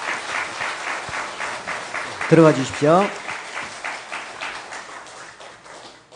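A Korean church congregation claps during an officer ordination thanksgiving service. The warm, broad applause runs under someone speaking over a microphone, swelling briefly in the middle before it fades.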